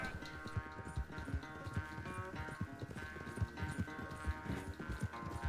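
Hooves of a horse in Red Dead Redemption 2 clop in a brisk, even gallop rhythm over a swampy chase, set against a steady musical score.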